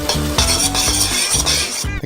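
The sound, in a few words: stirring homemade candy mixture in a pot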